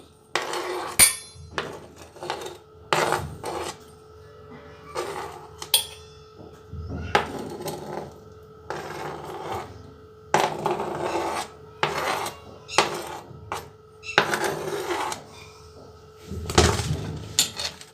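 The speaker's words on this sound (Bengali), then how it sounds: "এরপর আমি মিক্সির জারে পিসগুলোকে দিয়ে দিচ্ছি।" Pieces of food dropped into a mixer grinder jar in a home kitchen, giving a series of short clinks, knocks and scraping rasps at close range, repeating irregularly with no talk.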